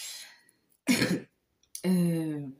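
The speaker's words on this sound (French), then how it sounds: "Pardon, hein, j'ai toussé." Two sharp coughs, one after the other with a short pause between, close and fairly loud against near silence.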